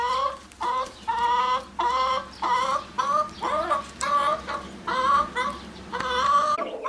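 Several chickens cluck near their chicks in a garden, a steady run of close, repeated calls with short gaps between phrases and no talking.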